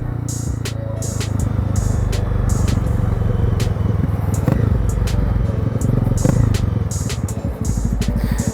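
Honda CB300R motorcycle ridden around town, its engine a steady close drone with rising and falling revs, gear changes and some road clatter throughout.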